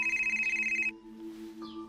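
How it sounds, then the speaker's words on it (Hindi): A phone rings with a bright, pulsing electronic trill, a rapid regular warble that cuts off after about a second, leaving a sustained tonal musical bed. "ये तुम्हारा फोन बज रहा है, फोन लो।"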